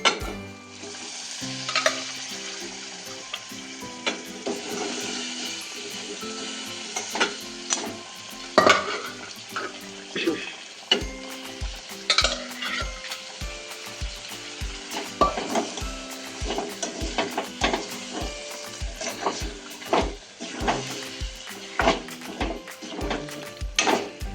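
Mutton pieces fry in roasted black masala in a Maharashtrian village-style dish, a close sizzle broken by a long run of rhythmic scraping and stirring strokes against the pan, with occasional clinks.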